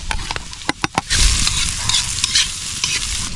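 Onion and garlic fry in a pan. A few sharp spatula knocks come first, then a loud, steady close-up sizzle broken by occasional stirring scrapes, with no talking.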